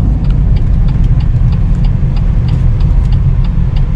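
A rented BMW X1 engine on a European road gives a steady, close, low rumble that holds evenly throughout, with no voices over it.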